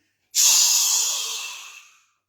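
A single long, breathy exhalation during a yoga exercise, starting abruptly and fading steadily over about a second and a half, close and airy against silence.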